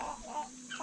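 Chickens give short, soft clucks from a little distance, a faint, brief burst of fowl sounds.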